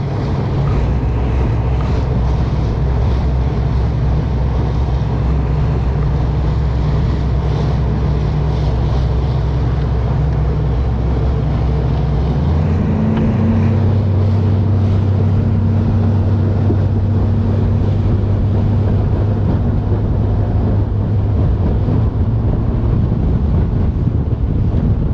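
Steady wind buffets the open air on Lake Guntersville during a bass fishing trip, a constant loud rush with a low boat engine droning underneath that shifts pitch partway through.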